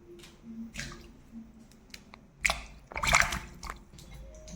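Green grapes are washed by hand in a bowl of water, with soft squishing, dripping and a couple of louder splashy swishes of fruit moving through the water, close by and with no voices.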